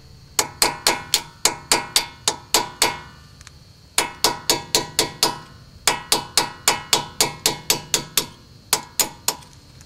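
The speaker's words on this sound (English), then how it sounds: "you just drive them out gently with a punch and a hammer" Sharp metallic taps of a hammer on a punch driving out pins on a 1970 Mercedes-Benz 280 SE, in rapid bursts of several quick strikes with short pauses between runs, close and clear.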